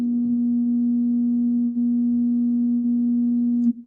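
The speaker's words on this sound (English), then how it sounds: "250 hertz sounds like this." A steady 250 hertz pure tone played in a university perception lecture on sound, holding loud and unbroken for nearly four seconds before cutting off, with no talk over it.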